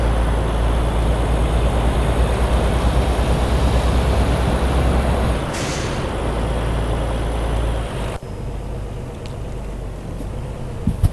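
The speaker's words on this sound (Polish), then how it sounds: "posłuchajmy jak ciężarówka brzmi z zewnątrz" A Peterbilt truck in Euro Truck Simulator 2 heard from outside: a steady, loud low engine drone and broadband rumble that eases slightly midway, then drops abruptly to a quieter idle near the end.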